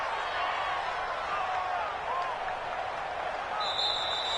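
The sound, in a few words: stadium crowd in a PS4 football video game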